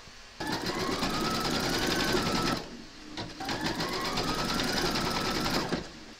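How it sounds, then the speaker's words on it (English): Embroidery machine stitching a placement outline on hooped fabric, with two long runs of rapid, even, high-pitched mechanical whirring and needle chatter separated by a brief pause, close and loud, with no talking. "You're now going to pop your hoop into your machine and stitch round number 1"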